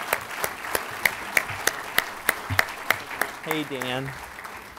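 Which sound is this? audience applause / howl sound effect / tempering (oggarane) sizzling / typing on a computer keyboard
audience applause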